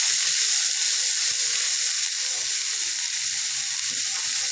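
Ground cumin and ginger paste stirred in a frying pan sizzle in a steady, loud hiss with faint scraping from the stirring, continuous throughout.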